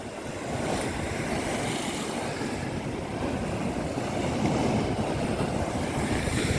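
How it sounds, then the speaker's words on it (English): Sea waves surging over a harbour defence wall on the Paignton esplanade, a steady roar of surf and spray mixed with wind buffeting the microphone, continuous throughout with no talking. "Look at these waves coming over the top of this defence wall."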